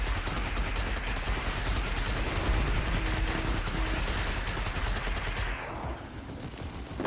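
Sustained rapid gunfire from guns in Destiny 2 forms a dense, loud, continuous barrage for about five seconds, then eases off toward the end.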